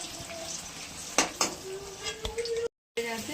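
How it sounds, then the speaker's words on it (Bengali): Potatoes sizzling and crackling steadily in oil, with a few sharp clinks of a utensil against a pan, briefly cutting out near the end. "এবার তুলে নেবো, নিয়ে আলুগুলো ভেজে নেবো।"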